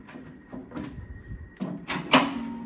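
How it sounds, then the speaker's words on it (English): A metal T-handle is pulled to adjust the tilt on a mid-1960s Tektronix oscilloscope cart, giving a few soft knocks and then a sharper clack and rattle near the end, close by with no talk. "This T-handle you pull, and then you can adjust the"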